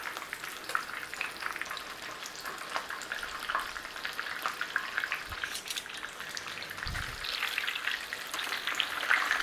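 Pork schnitzel fries in a pan with a steady, close sizzle and crackle, the spitting hiss rising and falling as the cutlet is turned, with occasional soft knocks of utensils and no talk.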